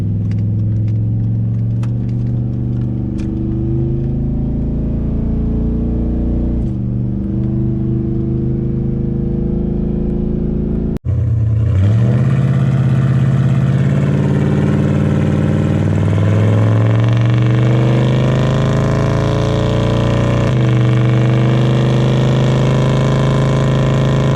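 Pickup truck with a 3400 stall torque converter and performance exhaust: a deep loud engine rumble at idle, then a sharp jump into heavier droning acceleration with rising revs, close and continuous.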